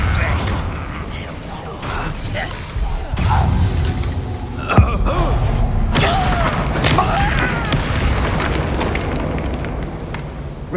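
A Confringo blasting spell explodes in the video game Hogwarts Legacy, a sharp burst followed by rumbling, crackling fire and mechanical noise, loud and dense throughout.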